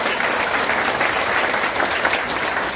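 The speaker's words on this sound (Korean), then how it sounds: "우리 박수 한번 합시다." Dense, steady applause from a live audience fills the whole stretch, loud and close, with no pauses and no talk.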